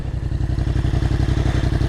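A 2019 Yamaha MT-07 motorcycle with a Black Widow exhaust and the baffle removed idles with a deep, rapid, steady thudding pulse. It is loud and close, with a rough mechanical clatter and no voices.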